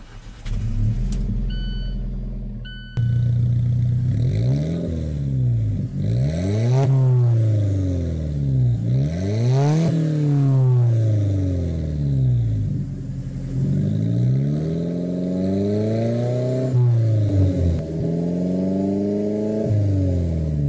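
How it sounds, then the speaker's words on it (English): A 2015 Alfa Romeo 4C Launch Edition starts with a sharp crank and catch, then its engine idles with a deep exhaust burble and is blipped repeatedly in rising and falling revving sweeps, loud and close throughout. "I'll insert the key and put my foot on the brake and start it up."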